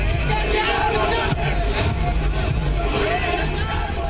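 A large crowd packs a street in Hyderabad, its steady babble of many voices and occasional shouts forming a dense, continuous roar.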